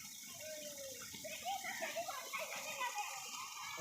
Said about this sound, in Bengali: মিনি ঝর্ণা জল পড়ছে।